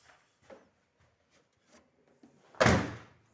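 A remote central door lock is fitted to a Daewoo Lanos car door. A few soft clicks and rubs come before one loud, close mechanical clunk as the lock actuates.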